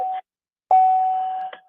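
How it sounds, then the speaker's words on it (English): Steady electronic beeping over a phone call line, a short tone burst followed after a gap by a longer sustained beep, thin and telephone-filtered. "I can hear your beeping too."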